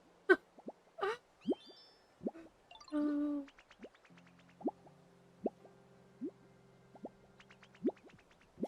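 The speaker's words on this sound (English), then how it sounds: "Did you just fart?" Short cartoonish blips and plopping sound effects from the game Pokopia pop at intervals, including a brief buzzy, flatulent burst, over a quiet electronic backdrop.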